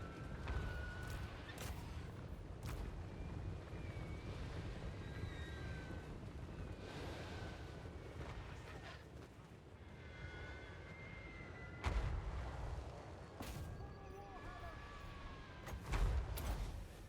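Artillery in a Total War Warhammer 3 battle booms and thuds repeatedly at a distance amid a dense, continuous battlefield roar, with a few sharper impacts standing out near the end.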